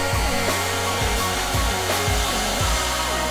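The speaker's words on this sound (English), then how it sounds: "Hack a hairdryer." A hair dryer blows with a loud, steady rushing roar from start to finish, with a faint pulsing hum underneath.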